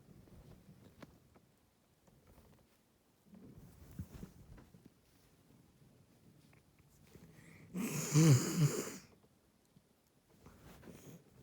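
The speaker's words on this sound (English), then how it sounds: "Sorry, I'm blowing my nose again." A loud, wet nose blow bursts out for about a second amid low background murmur and faint rustling.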